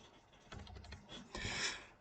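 Short bursts of keystrokes on a computer keyboard, two quick clusters of soft clicking typed close by in a quiet room.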